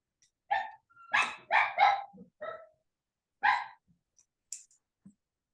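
A small dog barking in a series of sharp, close yaps, several bunched together then a few isolated barks, against a quiet background with no talk.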